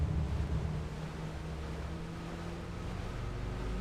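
Aircraft carrier getting underway at sea in Microsoft FSX, with an F/A-18A Hornet parked on deck with engines off: a steady, even low rumble of engines and rushing wind and water, continuous throughout.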